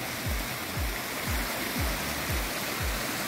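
Water from a waterfall splashes steadily into a backyard pool, a close, continuous rushing wash with a soft repeating thump under it.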